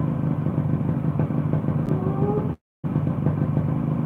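A restored Yamaha RX King two-stroke motorcycle engine idles steadily nearby, a continuous rough rumble with a light metallic clatter and a brief dropout near the end.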